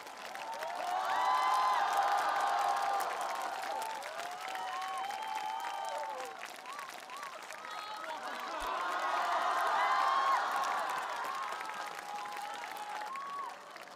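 A concert audience applauds and cheers for the singer, a dense swell of clapping and shouts that rises, dips slightly, then surges again across the stretch, with faint voices woven through.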